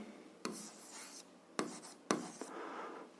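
Someone writes out a seventh-grade algebra solution, the pen scratching on paper in three short bursts separated by brief pauses, fairly close and quiet, with no talking.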